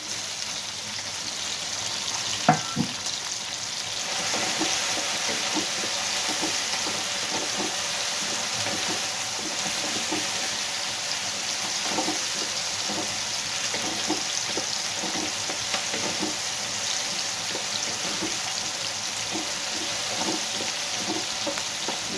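Bitter gourd fries in spiced masala in a pan, a steady dense sizzle running unbroken for the whole stretch, close and even, with one brief clink of a utensil early on.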